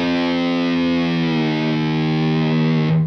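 A loud, heavily distorted electric guitar holds a bending, droning note that slowly warbles in pitch, thick and saturated, before cutting off abruptly, in the intro of a song.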